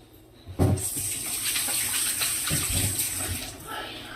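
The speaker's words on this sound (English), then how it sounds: "I'm going to wash my hands just one more time." Tap water gushes steadily into a kitchen sink for hands being washed after handling raw chicken, starting with a sudden splash and running continuously up close.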